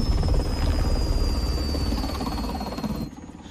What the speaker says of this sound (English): I was shooting at the helicopter.